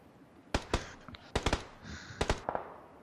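Video game gunfire during a livestream, a quick string of sharp, separate shots in small bursts, close and fairly loud.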